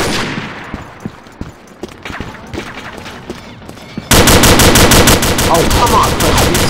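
M16 rifle fire in a first-person shooter game: scattered sharp shots at first, then a loud, sustained burst of rapid automatic fire filling the final stretch.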